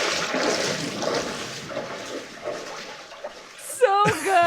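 Water splashing through a flooded house in a film scene, a continuous wash of sloshing and churning that fades, then a voice breaks in near the end.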